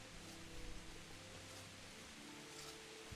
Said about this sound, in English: Of course it'd be raining.